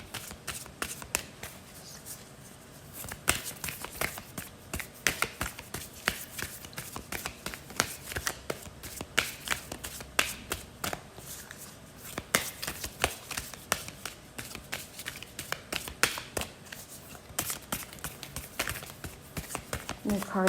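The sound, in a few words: shuffling tarot and oracle card decks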